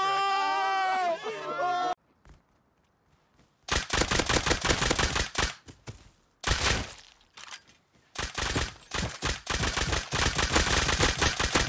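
Gunfire in Rust comes as bursts of rapid, loud shots in several clusters separated by brief silences, with a bleating, sheep-like sound at the start.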